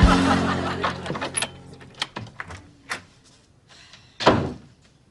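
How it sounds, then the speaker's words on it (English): A door is forced and busted open in an indoor sitcom scene. One heavy crash is followed by scattered thuds and knocks, another loud bang comes near the end, and faint laughter sits underneath. "I'm going to use this to bust down Hallie's door so we can resolve our trust issues"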